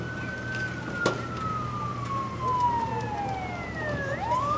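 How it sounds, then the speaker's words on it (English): An ambulance siren wails, sweeping up and down in long slow glides, heard at moderate distance over a low rumble of Los Angeles traffic. "I think I do hear an ambulance that is en route."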